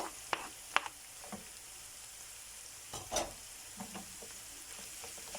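Potatoes fry in a pan over a soft, steady sizzle. A few sharp clinks and taps from stirring stand out, with one louder knock partway through.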